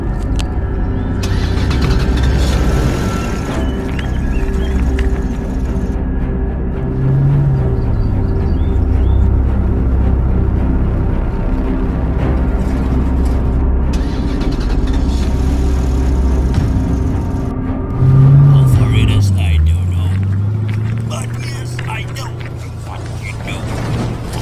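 Toy army truck in a stop-motion war scene, its engine cranking to start and then running with a steady mid-pitched drone, rising again near the end, with voices speaking over it.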